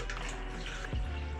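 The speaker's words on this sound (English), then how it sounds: "fill it up with distilled water first to see if there's any leaks" Distilled water is poured into a Subaru WRX engine through a bleeder kit, making a continuous close rushing, gurgling pour with a low sloshing undertone and no talking.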